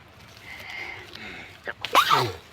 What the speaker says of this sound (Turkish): Oğlum sen bir hapşırığını tut.